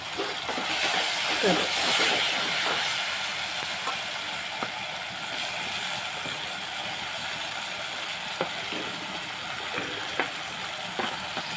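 Okra pieces land in a pan of tomato curry, setting off a steady, crackling sizzle with scattered clinks and scrapes, close and moderately loud throughout.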